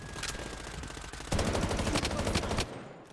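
Rapid automatic gunfire in the shooter game Blood Strike rattles in dense bursts, a short volley, then a louder, closer sustained stream of shots that stops near the end.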